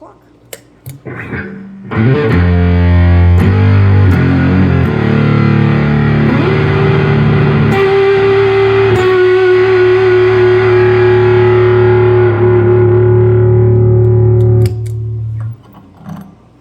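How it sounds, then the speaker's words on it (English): Electric guitar through a Pro Co RAT2 distortion pedal with every knob set around noon: a few picked notes, then loud, saturated chords ring out and sustain for several seconds before cutting off. "And here is the RAT with all knobs set around 12 o'clock."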